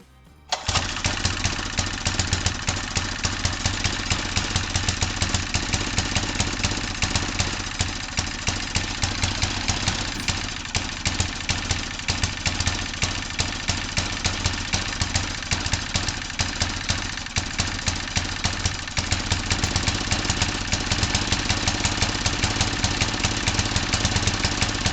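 A Howard Bullfinch engine starts and then idles roughly and loudly, with a steady uneven mechanical chug and rattle that runs unbroken throughout, alone with no talk.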